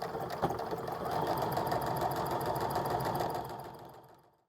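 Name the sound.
sewing machine stitching quilt block seams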